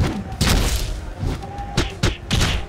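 Jab attacks landing in the platform fighting game Icons during a tournament match: a series of punchy thuds and whacks, about five or six sharp hits at an uneven rhythm, loud and up front over the game's background sound.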